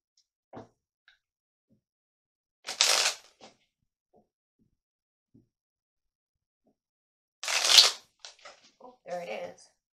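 Tarot cards being shuffled to draw a daily card, two brief papery riffling bursts close by, separated by quiet, with a few soft taps and light rustles after the second.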